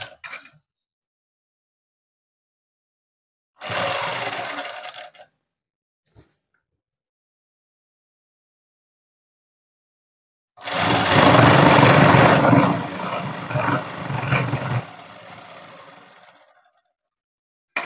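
A sewing machine stitches the seams of a girls' school uniform coat in short runs separated by long silences: a brief burst, a clatter, then a longer, louder stretch of steady whirring.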